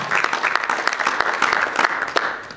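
Students burst into sustained applause, a dense, loud patter of many hands clapping together without pause, close and filling the space.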